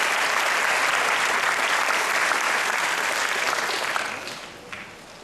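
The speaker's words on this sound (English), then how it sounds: "Let's give each other a round of applause here" A graduation audience at an 8th grade ceremony breaks into a dense, sustained round of applause, steady and loud from the start before thinning out and fading near the end.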